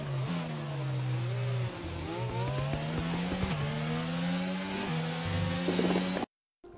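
A racing car's engine in a racing video game climbs and drops through revs and gear shifts, with tonal whine, brief lifts and possible tire squeal, steady and fairly loud before cutting to silence at the end.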